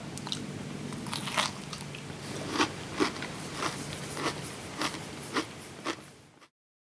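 Crunchy peanut butter Rice Krispy mounds are bitten and chewed close up, giving a steady series of crisp, crackling crunches over several seconds that stop abruptly at the end.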